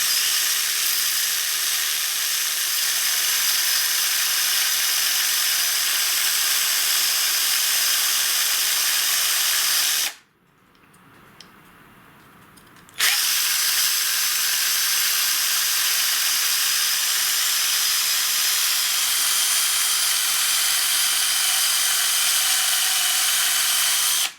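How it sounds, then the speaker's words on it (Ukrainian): Steady, loud abrasive hiss of a knife being sharpened between sheets of sandpaper in a homemade sharpening device, running continuously except for a roughly three-second pause midway. "Тепер беремо ніж, вставляємо між наждачним папером."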